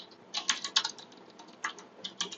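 Typing on a computer keyboard while writing code for a Leetcode contest problem, a quick uneven patter of light key clicks in short clusters, close and fairly quiet.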